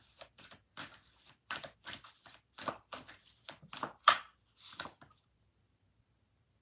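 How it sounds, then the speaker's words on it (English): A large deck of oracle cards being shuffled by hand in rapid riffling bursts, a dozen or so quick crisp flutters in steady rhythm, close and clear, then silence. "This is a bigger deck, so I'll be trying to shuffle it the best I can."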